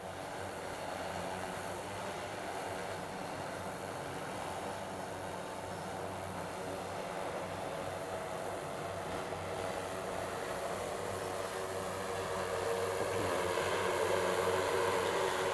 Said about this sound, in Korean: 원주 비행 실시 원주 비행 위치로